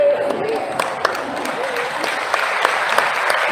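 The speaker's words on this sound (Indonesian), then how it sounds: "yang penting kalian tepuk tangan lah" An audience at a talk claps in sustained applause, a dense steady patter of many hands with scattered louder claps, close and fairly loud throughout.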